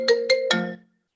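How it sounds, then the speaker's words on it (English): A mobile phone ringing: three quick electronic ringtone notes in a rising pattern, clear and close, with the last note trailing off into silence. "my phone rang"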